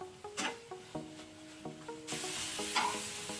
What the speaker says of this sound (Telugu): లైట్ బటర్లో ఈ విధంగా వేయించి పక్కన పెట్టుకుంటే టేస్ట్ బాగుంటాయండి